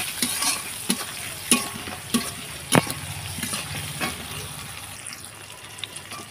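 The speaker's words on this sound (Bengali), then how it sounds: "এটাকে এখন ভালোভাবে নাড়াচাড়া করে ভেজে নেব" Banana vadal with green chillies and salt stir-fries in a pan: a steady oil sizzle broken by repeated scraping and stirring strokes from a utensil, close and fairly soft, with no talking.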